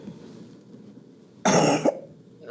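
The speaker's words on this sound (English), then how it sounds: "followed immediately by a forceful cough, expectorating the sputum directly into the specimen container" A single forceful, harsh cough to bring up sputum into a specimen container bursts out loud and close for about half a second, ending in a throaty catch, with quiet room tone before and after.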